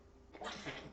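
A single quick sneeze bursts out, fairly faint, against a quiet background hum.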